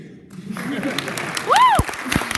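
A banquet audience breaks into cheering and applause, with a whoop rising over scattered clapping and crowd noise while the room stays fairly close and lively.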